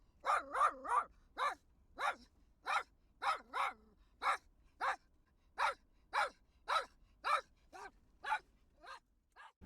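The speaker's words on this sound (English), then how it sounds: "Whenever there's an animal hanging out by the road, Pedy is on it, barking like it's his job." A dog barking at a cow standing by a dirt road on an Outback track, giving about seventeen loud, evenly spaced barks, a quick cluster at first, then steadier, with quiet gaps between.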